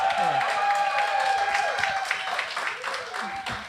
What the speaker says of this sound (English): make some noise in the room. Let me hear all the noise y'all can make.